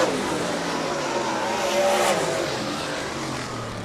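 Sprint race cars roaring past at a dirt speedway as a heat race finishes, loud continuous engine drone that swells and fades as the cars pass.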